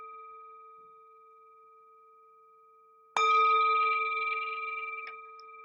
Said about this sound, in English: The sound of this beautiful bell returns us to our true home